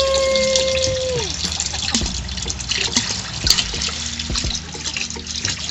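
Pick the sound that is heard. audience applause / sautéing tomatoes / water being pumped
water being pumped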